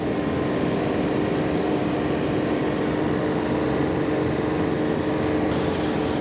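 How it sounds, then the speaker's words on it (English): A 46-horsepower tractor pulling a 10-foot flexwing mower drones continuously at wide-open throttle, a constant loud roar with no pauses or voices. "it's amazing to be able to hear anything over a tractor pulling a mower wide open throttle"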